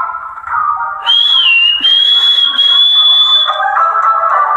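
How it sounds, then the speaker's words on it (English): A long, steady high-pitched whistle holds a single tone for about three seconds with a brief dip, rising over a murmur of game sounds while playing Clash of Clans. "That's my whistle."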